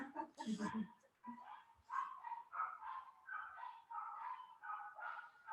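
Small puppies yip and whimper in a high, wavering chorus of repeated short cries, fairly faint and slightly distant, with a voice talking at the start.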